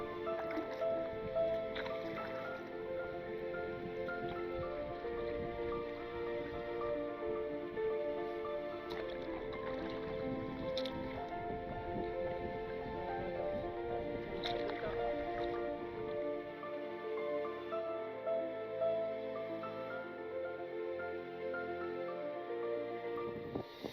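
A vehicle crossing a coastal-region river, with water splashing, squishing and gurgling around it in a steady wash that is close and fairly loud throughout, with no talk over it.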